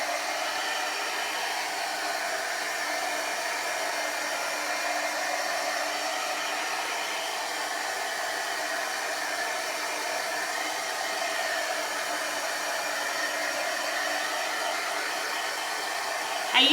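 A hot heat tool blows steadily while drying chalk paste on a craft project, a constant even whir with a high fan whine, close and unbroken until a brief knock at the very end.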